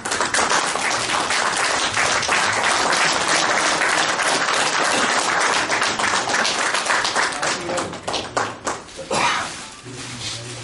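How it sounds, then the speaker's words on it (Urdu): Audience applause at an Urdu poetry mushaira in Khafji, loud dense clapping sustained for several seconds before thinning into scattered claps, with a speaker's voice faintly heard near the end. "آپ تمام کی تالیوں کے بیچ"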